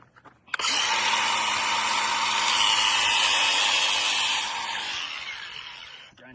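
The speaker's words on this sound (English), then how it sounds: "Grinder makes everything easier." An angle grinder runs during a hoop-style chicken coop build, a loud continuous high whine that starts abruptly, holds steady for several seconds, then eases slightly in pitch and level before cutting off, with no talking.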